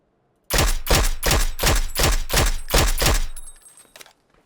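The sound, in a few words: gunfire in video game PUBG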